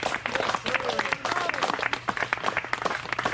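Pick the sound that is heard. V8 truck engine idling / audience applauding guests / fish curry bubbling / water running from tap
audience applauding guests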